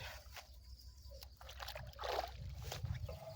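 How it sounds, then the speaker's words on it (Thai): Water flowing steadily into a fish pond used for net fishing, a continuous close trickle and slosh with a low underlying wash that swells slightly toward the end. "น้ำไหลเข้าบ่อเรื่อย"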